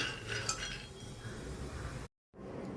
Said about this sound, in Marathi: आता हे मी शेंगदाणे भाजून घेते.